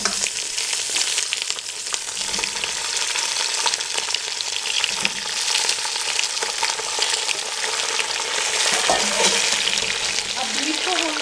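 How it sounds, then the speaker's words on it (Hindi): Beef sizzles steadily in a spice masala over a medium flame for pulao, with a dense, even frying hiss and faint scrapes of stirring throughout, close and loud, with no talking. "अब बीफ को हम मीडियम फ्लेम पे 3 से 4 मिनट फ्राई कर लेंगे।"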